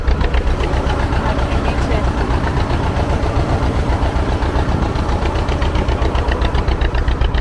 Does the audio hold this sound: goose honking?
no